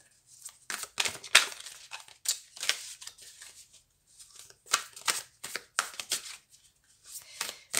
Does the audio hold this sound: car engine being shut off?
no